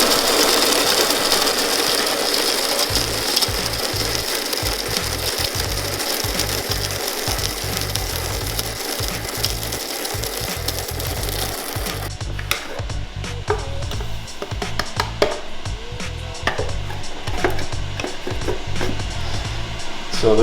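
An electric coffee grinder grinds coffee beans for French press with a loud, steady mechanical whir and rattle that runs about twelve seconds, then cuts off, leaving quieter clicks and knocks.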